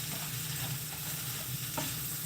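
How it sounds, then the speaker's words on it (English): Sausage and broccoli stirred in a hot pan, a continuous close sizzle with soft scraping of the spoon, alone without voices. "So, I'm going to stir this around for a minute."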